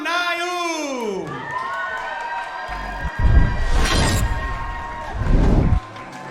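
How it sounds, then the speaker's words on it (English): A crowd at an MMA event cheers for a fighter being introduced in the red corner, two short bursts of loud cheering rising after an announcer's drawn-out voice. "Good little pop there for Naoum."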